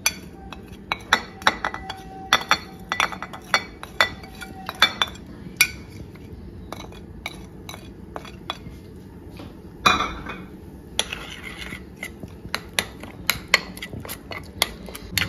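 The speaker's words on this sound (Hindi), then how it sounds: "अब ये मेरे पास 3-4 चम्मच दही के हैं। इसके अंदर ये सारे मसाले मैं मिक्स कर दूँगी।" A spoon mixing spices into three or four spoonfuls of yogurt in a bowl, with a string of sharp, close clinks and taps against the bowl in an uneven rhythm and a brief scraping burst partway through.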